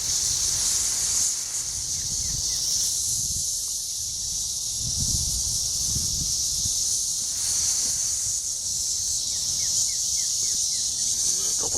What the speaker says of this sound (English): I'm going to try to shake this tree and you can see all the cicadas that go crazy.